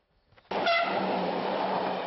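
A train running along a railway line below a crumbling rock massif, with a loud, steady rolling roar that starts abruptly and holds through, with a brief horn-like tone near the start.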